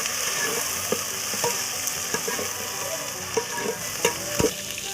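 Whole cumin, cardamom, cloves, cinnamon, dry red chilli and chopped onion sizzle steadily in hot oil for a mutton curry, a close, continuous frying hiss broken by a few sharp crackles and stirring knocks, with no talking.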